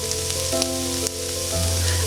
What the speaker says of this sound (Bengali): এখন মাছের টুকরোগুলোকে ধীরে ধীরে উল্টে পাল্টে ভাজতে থাকবো